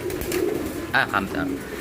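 Pigeons coo softly nearby, a few low throaty calls, with a person talking over them.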